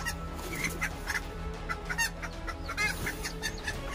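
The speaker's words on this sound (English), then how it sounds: "you'll often see the chicken swing into action to protect their young the only way they know how" Chickens cluck in quick, repeated bursts while pecking at and attacking a snake, with fowl calls rising and falling over steady background noise.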